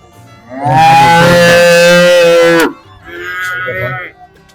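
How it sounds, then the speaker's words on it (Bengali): A cow lets out a long, loud moo close by at a cattle market, followed by a shorter, higher call, over low background murmur. "বেশ বড় বড় গাই গরু এখানে"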